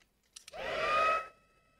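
Two small clicks come before a hair dryer whirs up and blows for under a second over a watercolour Christmas card painting, then winds down with a fading whine.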